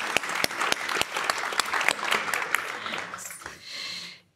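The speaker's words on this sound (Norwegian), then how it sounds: "Kan gi dem en applaus da" Applause from a conference audience at a Norwegian foreign policy panel, dense steady clapping lasting about four seconds before tapering off and stopping abruptly.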